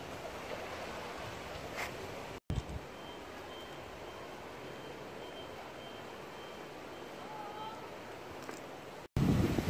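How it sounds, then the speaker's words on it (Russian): Strong wind buffets the microphone on a beach at a Turkish resort, a steady rushing roar with faint surf beneath and a few brief dropouts and bumps. "Сегодня очень ветрено."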